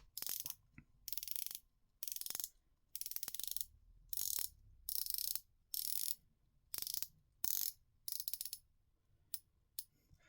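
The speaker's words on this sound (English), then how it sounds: "just have a quick listen while I play around with this bezel" Rotating bezel on a budget BB58-style dive watch turned in repeated bursts, each a quick run of crisp ratcheting clicks with short pauses between, close and isolated with no talk.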